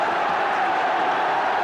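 A football crowd at a West Ham United match against Watford in 1980 roars with a steady, dense wash of cheering and noise, sustained and unbroken throughout.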